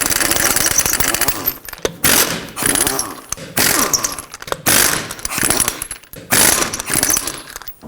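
An impact wrench with a 21mm socket removes the lug nuts from a 2012-2017 Toyota Camry front wheel, firing about five loud, rattling hammering bursts separated by short pauses.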